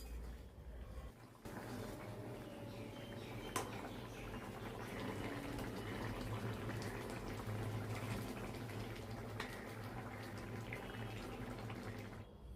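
Aubergine and potato curry simmers in a pot, a low, steady bubbling and gurgling with a faint hiss, quiet and close, with one brief clink midway and no talking.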